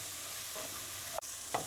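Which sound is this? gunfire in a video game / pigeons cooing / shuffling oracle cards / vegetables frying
vegetables frying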